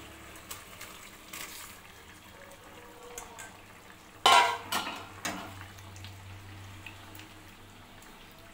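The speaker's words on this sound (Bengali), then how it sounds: "এবার ভালো করে নাড়িয়ে নেব।" A utensil stirs prawn malai curry in a pan of simmering coconut-milk gravy. There are a few scattered scrapes and a sharp clatter of metal against the pan, then a soft bubbling underneath, close and with no talking.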